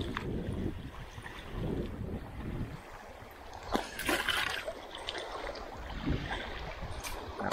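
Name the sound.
wind blowing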